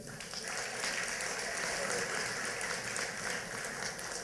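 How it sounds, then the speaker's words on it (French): Guests at a volunteers' awards evening applaud the nominees, a steady, moderately soft round of clapping from a crowd in a hall, with some voices faintly beneath. "Alors, on va mettre d'applaudissements pour ces gens-là."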